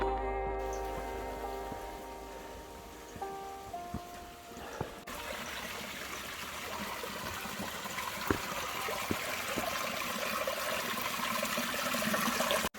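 A water spout fed by a mountain spring runs on a trail near Pico Itapiroca in Paraná, Brazil; after a few seconds of other sounds a close, steady splashing stream takes over and continues.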